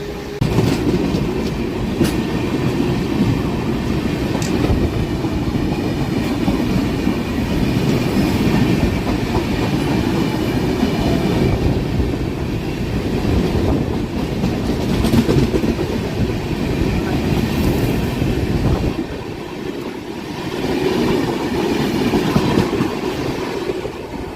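Humsafar Express train roaring loudly along the tracks as another train passes alongside, a steady heavy rumble with clickety-clack rhythm and a brief dip in noise near the end, no talking.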